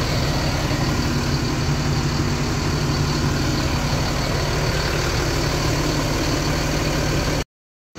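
A Sinar Jaya 25 RD coach, reportedly on a 1521 chassis, idles at a bus terminal in the late afternoon, a steady continuous engine rumble with a constant hum that holds evenly before cutting out at the very end.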